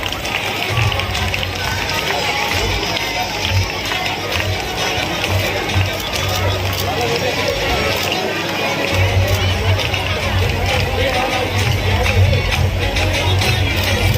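An audience at a gathering with an MLA, honouring rural students, claps steadily for over fourteen seconds, a dense, even wash of many hands with no breaks.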